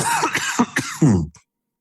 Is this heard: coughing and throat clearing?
yes